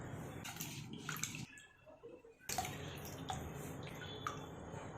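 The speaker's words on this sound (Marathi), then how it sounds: "आता पुन्हा एकदा आपण कैरी धुवून घेणार आहोत।" Raw mangoes being rinsed in water, with splashing and dripping that pause briefly in the middle before resuming, close and fairly quiet.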